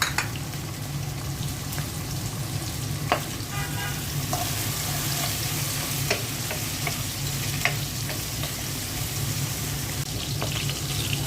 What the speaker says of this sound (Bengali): পেঁয়াজ আর চিংড়ি মাছটা ভেজে নিলাম